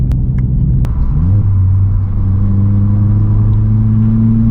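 A Vauxhall Corsa climbing a hill under acceleration, its engine rumbling loud and close with the pitch rising steadily as revs climb, with no talking.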